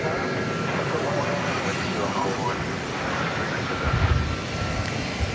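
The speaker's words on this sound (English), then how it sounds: "And yonder is an Airbus A300." An Airbus A300 airliner, about twenty years old and bound for Louisville, rumbles past at DFW Airport at night, a dense, continuous engine roar that swells slightly near the end.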